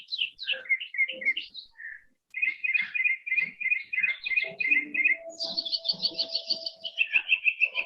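Several birds sing close by in a park at midday, with quick repeated chirps and trilled phrases overlapping in bright bursts, continuing almost without pause.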